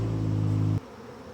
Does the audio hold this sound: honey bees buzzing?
yes